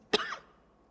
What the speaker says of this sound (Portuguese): Tá voltando a tosse.